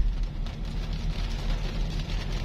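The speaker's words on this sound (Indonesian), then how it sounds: "walaupun ini masih rintik-rintik ya" Light drizzle of rain falling steadily outdoors in a village after ash fall from a volcanic eruption, a soft continuous patter with low rumbling background and no voices.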